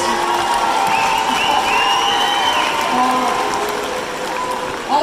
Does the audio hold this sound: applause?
yes